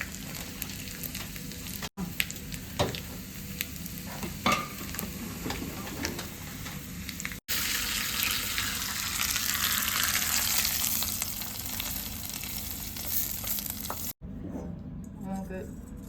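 Shallots and green chillies frying in hot ghee, a steady close sizzle with occasional stirring clicks and a louder surge of crackling midway before it thins out.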